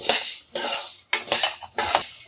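Black gram and roasted chana dal dry-roasting in a pan, stirred in repeated scraping bursts with a rattling, gritty churn of dry lentils against metal, steady and close with no talking.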